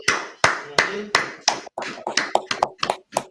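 About a dozen sharp hand claps ring out close by, starting slow and evenly spaced, then quickening into a faster, slightly uneven run.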